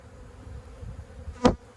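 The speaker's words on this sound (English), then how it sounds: "These bees are a little disturbed" Disturbed honey bees drone softly around an open hive. One bee passes close by near the end as a brief, louder buzz.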